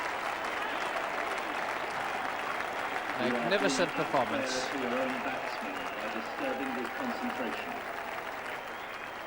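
Cricket crowd at The Oval applauding Sunil Gavaskar's double century in the England v India Test, steady sustained clapping throughout with a commentator speaking over it midway.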